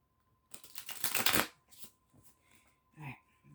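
A deck of tarot cards is riffled and shuffled in one quick, crisp burst of flapping card edges, close and clear in a quiet room, followed by a few soft taps and slides of cards.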